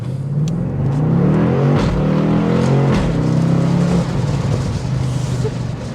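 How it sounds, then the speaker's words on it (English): A BMW M850i Convertible accelerates hard and loud, its engine note climbing steadily with a few sharp exhaust cracks punctuating the run before settling into a steady drone. "Those exhaust cracks come out."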